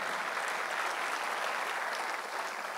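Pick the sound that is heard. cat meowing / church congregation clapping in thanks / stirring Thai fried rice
church congregation clapping in thanks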